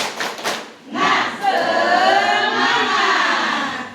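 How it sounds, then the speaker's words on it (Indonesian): A school class joins in a rhythmic group clap cheer, hands and voices rising together into a loud, sustained burst after a brief spoken lead-in, filling the classroom for several seconds. "Tepuk semangat."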